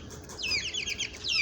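Chickens and roosters cluck and chirp in short, rapid bursts, fairly faint and close together, with no talk over them.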